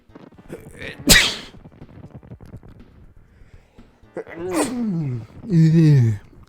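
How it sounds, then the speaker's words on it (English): A single sharp, loud sneeze bursts out, followed by a pause and then a couple of drawn-out vocal groans or sighs. "Hold on, sneezing coming."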